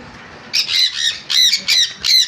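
Sun and pineapple conure parrots let out a run of loud, harsh squawks in quick bursts after a brief quiet start, close by and with no voices over them.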